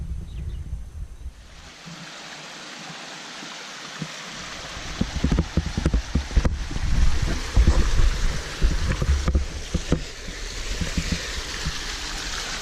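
Small waterfall on a mountain walking track at Cradle Mountain, a steady broadband rush of falling water that grows louder and more turbulent midway, with splashy low surges and no voices.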